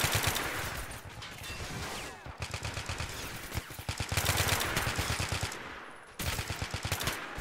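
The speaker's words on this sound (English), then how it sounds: "Here's a militia marksman in cover, firing from afar." A militia marksman fires from cover in a shooter game, as bursts of rapid gunfire crackle at close range in repeated volleys, broken by short pauses.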